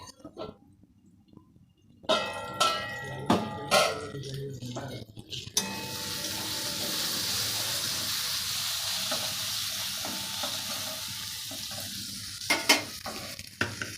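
Soybean mince cooks in a pan with a little salt, lid on and the gas turned to low. A few near clattering knocks open it, then a steady, fairly loud sizzling hiss runs on without a break.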